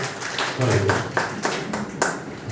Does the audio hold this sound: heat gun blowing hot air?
no